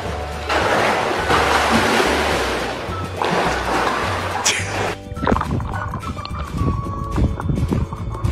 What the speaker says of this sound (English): She's actually going to swim underwater with the camera.